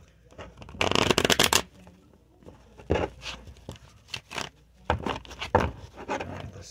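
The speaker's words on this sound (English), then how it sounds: "One more shuffle. One more shuffle." Tarot cards being shuffled in several quick riffling bursts, close and crisp, with short pauses and lighter handling sounds between them.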